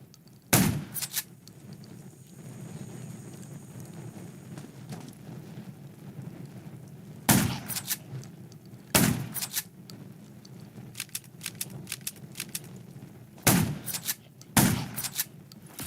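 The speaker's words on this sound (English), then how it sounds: "Gunshot." Several sharp, loud gunshot blasts in the game Undawn ring out at irregular intervals over a low rumbling background, with pauses of a few seconds between bursts.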